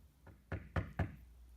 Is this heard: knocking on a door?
yes